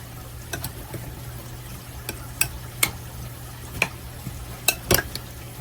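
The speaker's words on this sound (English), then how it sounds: "we're going to start stirring this up together now" A utensil stirring a fresh summer salad of vegetables and cheese in a bowl, giving sparse, irregular soft scrapes and clicks over a quiet background.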